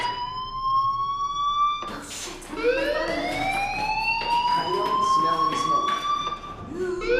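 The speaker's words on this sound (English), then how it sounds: "do you hear that fire alarm?" A wailing fire alarm siren rings inside the game Life is Strange, its tone sweeping up and holding, steady and fairly loud, with voices talking over it.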